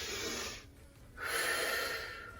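Breath exhaled during a barre abs and booty workout, a soft airy rush that fades then returns stronger, steady and close with no talking.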